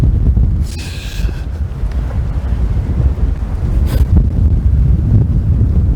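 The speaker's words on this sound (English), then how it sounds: "And it suddenly just got really windy." Strong wind buffets the microphone in rough, low rumbling gusts in the Lehigh Gorge, continuous and close, with no voices.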